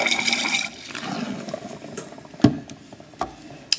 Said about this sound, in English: Going to add some deionized water to make a solution of sodium chloride.